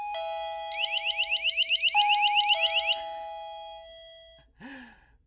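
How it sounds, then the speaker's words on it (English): A Wi-Fi water leak detector alarm sounds with a sharp electronic tone pattern: steady high beeps overlaid with a rapid warbling trill that shifts pitch twice, then stops. A short squeak follows after a pause. "this sounded like an alarm going off"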